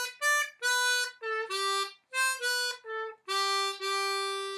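Solo harmonica in C plays a short melody line from a pop song, about a dozen clean sustained notes in phrases, the last held long, close and unaccompanied.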